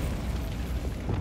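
A Bombarda spell explodes in Hogwarts Legacy, a dense, roaring blast of low rumble that holds steady and loud for its whole brief length.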